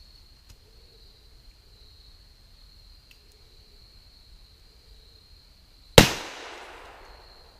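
A single sharp Glock pistol shot cracks at an outdoor target range, loud and close, with a ringing tail fading over a second after quiet with insects buzzing.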